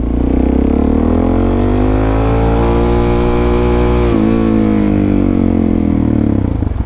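A motorcycle accelerates hard in first gear, the engine note climbing steadily in pitch to a loud, strained roar close by, briefly dipping as the throttle shifts, then rising again.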